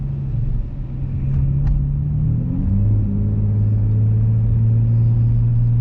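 A car fitted with a Pedal Commander pulls up an uphill stretch with a steady low engine drone and road rumble from inside the cabin, the tone rising slightly and then holding as it accelerates.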